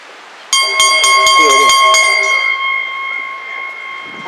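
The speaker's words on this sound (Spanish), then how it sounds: "Hay campana de larga." Bell rings to start a horse race, struck in a rapid burst of bright metallic clangs that then ring on as a long sustained tone fading slowly, loud and close, with no talk over it.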